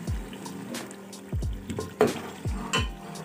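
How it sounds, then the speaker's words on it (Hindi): Meat (gosht) frying and being stirred in a pot for palak gosht, with a series of scraping stirs and soft sizzling spread across the clip, close and moderately loud, no voices. "अब ये गोश्त तकरीबन भुनने के करीब है।"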